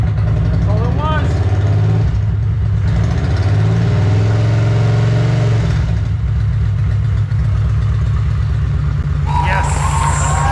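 A 2005 Kawasaki VN750 motorcycle engine runs after starting, a loud, low rumbling idle that continues steadily throughout, with a brief higher whine and clatter near the end.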